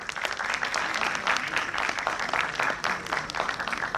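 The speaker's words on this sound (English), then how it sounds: "Please put a big round of applause for Ms." An audience claps for a presenter at a CA student paper presentation event: dense, steady applause from many hands that holds at an even level throughout, with no voices over it.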